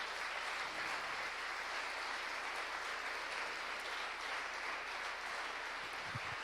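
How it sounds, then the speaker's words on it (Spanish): Sustained applause from a church congregation, a dense wash of many hands clapping steadily at full volume throughout, with no voices rising above it. "¿Cómo no le das un aplauso a Dios si tú crees eso?"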